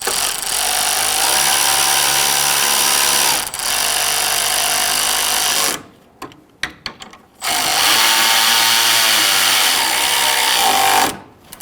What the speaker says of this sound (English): we're going to tighten up these bolts